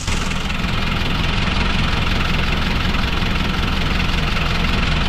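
A Hyundai H-100 engine runs with its valve cover removed and a new camshaft fitted, exposing the rocker arms. The idle is loud, close and continuous, with a dense mechanical clatter throughout and no talking.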